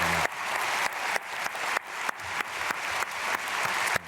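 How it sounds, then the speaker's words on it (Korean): A church congregation applauds to bless the children at a morning prayer service, a steady, moderately distant wave of clapping with faint pulses running throughout. "박수로 축복하겠습니다"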